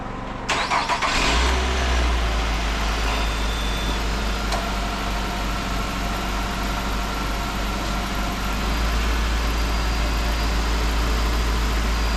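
A 2015 Nissan Altima S with the 2.5 engine idles steadily after starting, a close, continuous low hum that holds for the whole stretch, with a slight change in tone near the end and no talking.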